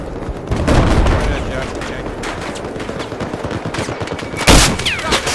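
Gunfire in Battlefield 4 on the Caspian Border map: dense, overlapping bursts of automatic weapons with heavier booming shots, loud and continuous, mixed with some game voice sounds.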